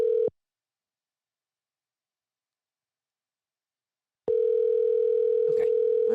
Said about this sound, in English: Can you hear it ringing?